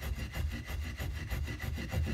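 Scraping varnish off a cigar box guitar fret, a close, rhythmic back-and-forth rasping with repeated short strokes and no voices.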